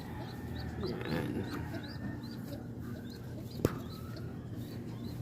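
Young pigeons in a loft make soft, faint cooing and squeaky chirps, repeated at intervals over a steady low background hum, with one sharp click partway through.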